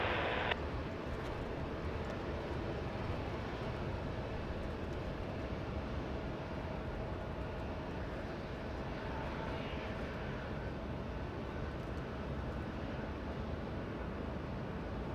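Jet airliner lifting off from Los Angeles International Airport, a broad sustained engine roar heard from a distance, steady and unbroken throughout with no talk over it.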